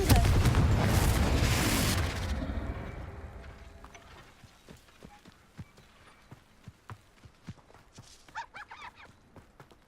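A Confringo fire spell blasts in the video game Hogwarts Legacy, a loud rumbling explosion for about two seconds that fades, followed by quiet scattered footsteps and clicks.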